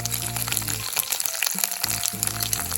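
Garlic sizzling and frying in hot oil in a pan while making Kerala-style lemon pickle, a steady crackling hiss with brief dips and a faint low hum underneath.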